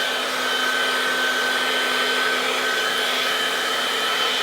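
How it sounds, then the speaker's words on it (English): A hair dryer runs continuously at close range, a steady loud whooshing drone with a faint motor whine, as it dries a DIY replica WWE SmackDown Women's championship belt; no one speaks. "I'm just gonna use the hair dryer"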